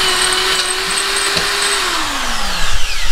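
A power tool whines steadily while breaking up a wall during a home man-cave build, its pitch sliding down near the end, with a few heavier knocks and rattles near the close.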